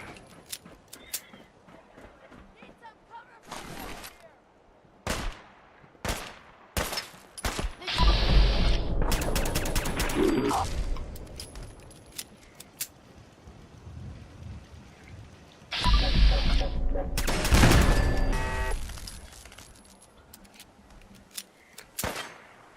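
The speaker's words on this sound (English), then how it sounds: "Where am I being shot at from?" Gunfire rings out in the VR game Fallout 4 VR, with bursts of sharp shots clustered in two loud volleys and scattered single cracks between them, some near and some farther off.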